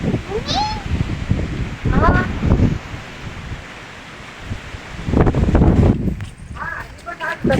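Gusty wind buffets the microphone in loud rumbling bursts, easing and returning, with scattered bird chirps and a voice speaking intermittently, in an open village setting.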